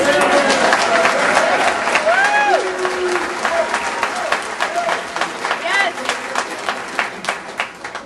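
A town hall meeting audience bursts into applause mixed with shouting and booing, a loud sustained crowd roar that gradually thins into scattered claps and voices.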